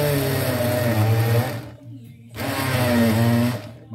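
A blender whirs loudly in two bursts blending a ginger-lemon shot, running about a second and a half, pausing briefly, then roaring again with a steady motor hum.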